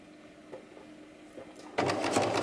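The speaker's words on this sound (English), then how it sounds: "you have to sew maybe about 1 centimeter here from the end and 1 centimeter from this part" A sewing machine stitches a short run on a fabric-scrap choker, starting abruptly after a quiet stretch and continuing as a steady, fast, close mechanical whir with dense rapid needle ticks.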